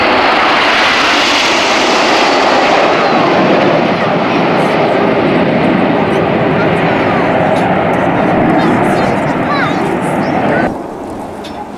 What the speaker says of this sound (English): So Andy returns to centre stage, trailing red smoke for the Flanker Bend